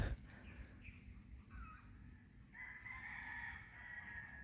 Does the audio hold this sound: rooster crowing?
yes